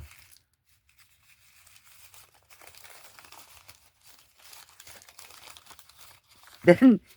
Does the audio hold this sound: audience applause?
no